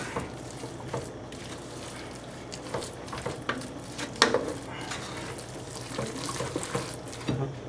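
Bolognese meat sauce is stirred in a pot, giving wet, sloshing, bubbling scrapes with occasional sharper clinks of utensil against the pot, irregular and moderately close, with no talking.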